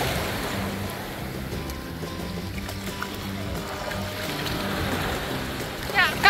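Boat riding through ocean waves off Koh Samed, Rayong, Thailand, with a steady engine rumble and wash of water and wind throughout, swelling into louder splashes near the end; voices can be heard faintly.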